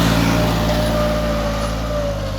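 A New Holland 3630 tractor engine drones steadily and loudly while pulling a cultivator through a field, with no change in pitch or pace.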